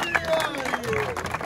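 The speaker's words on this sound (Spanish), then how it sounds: "¡Fuerte el aplauso para la final!" Crowd applause and cheering at a rap battle final, a steady mass of clapping mixed with voices and some whooping.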